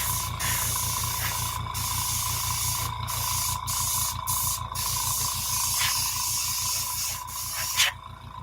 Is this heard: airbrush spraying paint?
yes